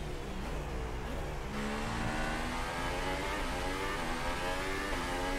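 A Formula 1 car's engine howls in the F1 2018 racing game, a loud, steady high-pitched whine that climbs and drops through gear changes for the whole stretch.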